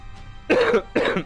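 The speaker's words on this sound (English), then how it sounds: "I'm so sorry about the cough tonight." Two short, harsh coughs in quick succession, close by, with a brief pause between them and no talking.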